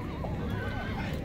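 A horse whinnies briefly amid the steady crowd murmur of an open-air horse market in Bishkek.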